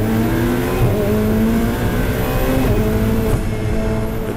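Race cars including a Ferrari battle on the Ledenon circuit, a continuous loud engine roar with steady harmonic whine and slight pitch shifts as they accelerate, no voices.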